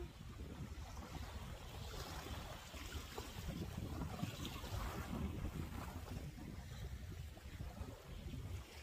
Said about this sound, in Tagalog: Maano, mahangin, ang lamig ng hangin.